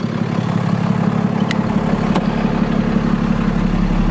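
A 2017 Peterbilt 337 rollback truck with a PACCAR PX7 diesel engine idles in a steady, loud, low rumble, close by and unbroken, with no voices.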